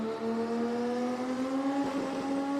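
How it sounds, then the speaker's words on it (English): A drag racing car at the Garrett Brisbane Jamboree drones with a loud, steady engine tone that climbs slowly in pitch as it spins its tyres at launch. "Oh, car once again just lights the bags up. Not once, but twice."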